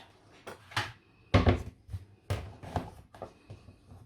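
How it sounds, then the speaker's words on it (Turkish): Plastic food container lids snapped shut one after another in a home kitchen, giving a series of short, close clicks and knocks with uneven spacing and one louder thump in the middle. "Kapaklarını da kapatayım."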